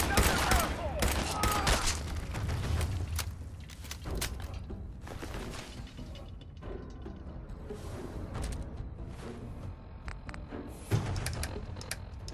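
Gunfire in Fallout 4, heard as dense, fairly quiet volleys of shots and rattling bursts running through the whole stretch over a busy game background.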